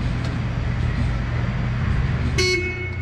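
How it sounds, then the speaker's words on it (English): An Octane EH15TH electric walkie stacker's horn gives a short, sharp toot near the end, standing out clearly over a steady low motor hum. "That's going to activate the horn"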